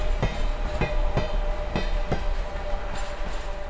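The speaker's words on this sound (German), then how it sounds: "Und jetzt wird der Traktor diese 5 Waggons an den anderen Zug anhängen." Railway wagons rolling along the track, rhythmic clickety-clack thumps of wheels over rail joints repeating every half second or so, over a steady low rumble.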